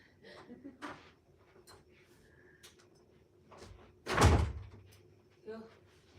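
A hotel room door is opened, giving a loud thump and rattle in the middle, with quieter handling clicks before and after. A person speaks faintly and anxiously around it.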